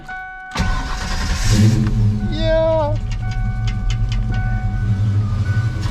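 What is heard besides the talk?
original V8 car engine starting with new tailpipes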